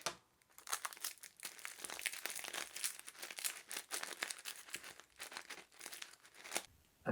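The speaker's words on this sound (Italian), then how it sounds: "chiudo e avvolgo il tutto con dello scotch da imballaggio, cercando di formare una pallina" Paper wrapped around stones is being bound with packing tape into a croquet ball, giving a steady run of close crinkling and crumpling with sharp tape-tearing rips throughout, without any talk.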